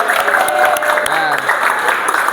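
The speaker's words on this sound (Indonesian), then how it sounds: "tepuk tangan untuk kita semua." A classroom group claps in applause after a teacher reviews pretest and post-test scores, a dense patter of many hands that is loud and continuous, with a voice speaking over it.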